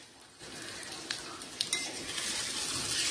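Vegetables sauté in a pan for a puffed-rice curry, with a rising sizzle and a few sharp clinks of a utensil stirring and scraping, close and fairly quiet.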